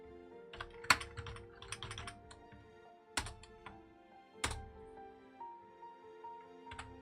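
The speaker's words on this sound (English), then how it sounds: "Helps if I don't shift my hand on my keyboard before I type." Typing on a computer keyboard at a desk, with quick bursts of clicky keystrokes, a few louder isolated key presses and short pauses between runs, close and alone.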